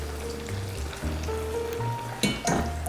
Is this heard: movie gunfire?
no